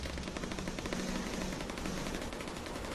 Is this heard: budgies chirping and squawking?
no